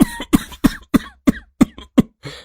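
A man in an animated cartoon coughs loudly and repeatedly, about eight harsh evenly spaced coughs in close succession.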